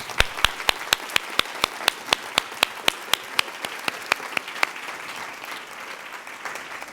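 An audience at a college global leadership luncheon applauds. Distinct sharp claps ring out near the start over a steady crowd clapping that gradually fades.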